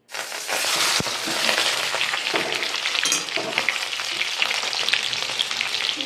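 Giant freshwater prawns frying in hot mustard oil in a wok give a loud, steady, crackling sizzle that fills the whole stretch, with a few scraping clicks of stirring on top.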